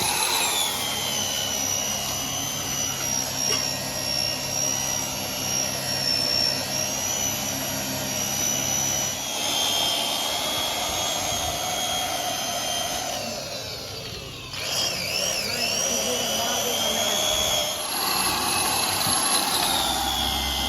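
A power tool whines steadily as it polishes the clutch cover of a 2008 Standard Bullet 350 motorcycle engine during restoration, a loud continuous high-pitched drone with slight pitch shifts and no talk.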